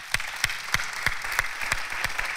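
A studio audience claps together in a rhythmic, evenly paced beat, with sharp repeated hand claps at a moderate distance and no talking.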